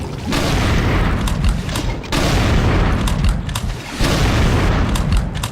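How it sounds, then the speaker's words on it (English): Three heavy, booming double-barrel super shotgun blasts from the Brutal Doom game mod come at roughly two-second intervals, each loud and followed by clattering reload mechanics and echoing tails. "One blast from both barrels can take a Hell Knight's head off, destroy a Cacodemon, or blow a Revenant in half."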